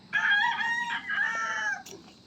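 Backyard roosters crow in one loud, drawn-out call close by, rising and wavering for about two seconds before breaking off, with faint farmyard noise behind it.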